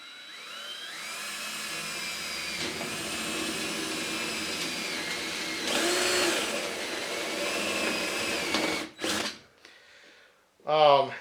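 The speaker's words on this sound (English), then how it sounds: "I'm going to drill a hole here in the top" A power drill whines steadily with its pitch rising and falling as it bores in, then stops abruptly, followed by brief handling noises.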